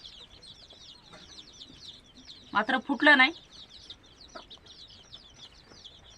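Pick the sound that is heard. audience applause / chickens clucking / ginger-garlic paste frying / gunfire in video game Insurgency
chickens clucking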